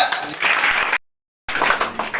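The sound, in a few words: loud applause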